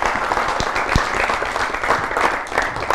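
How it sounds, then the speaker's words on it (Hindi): An audience at a Hindi literary gathering breaks into steady applause to welcome the guest, the writer Vishnu Prabhakar, with dense clapping sustained for the whole three seconds and a few sharper claps standing out. "जोरदार तालियों के साथ उनका स्वागत कीजिए।"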